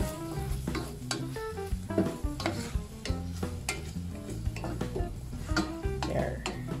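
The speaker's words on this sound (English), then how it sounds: "So now I've added the ground beef. Have to make sure that you mix it well." Ground beef fries in a pan while a utensil mixes it, with a constant crackling sizzle broken by repeated metallic clinks and scrapes against the pan. Close and steady, with no talk.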